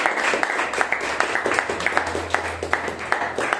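Congregation giving a loud round of applause during a church prayer gathering. The clapping is rhythmic and fairly even, with regular sharp claps over a low steady hum.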